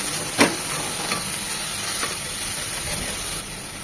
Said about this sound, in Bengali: 2 চামচ আদা রসুনের পেস্ট, 1 চামচ আদা, 1 চামচ রসুন, এটাকে 1 মিনিট ভেজে নেবো